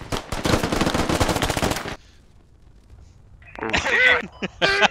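Rapid automatic gunfire from the Squad video game on a Fallujah map, loud and dense for about two seconds before cutting to near silence, then voices shouting in.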